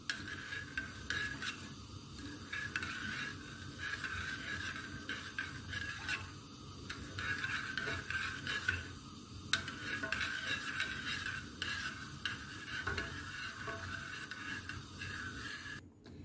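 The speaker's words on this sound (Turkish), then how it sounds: "Sosunun topaklanmaması için karıştırarak pişiriyorum." Lemon sauce for a lemon cheesecake stirred steadily in a pot on the stove, a soft continuous scraping and swishing with faint clinks of the utensil against the pot, no voices.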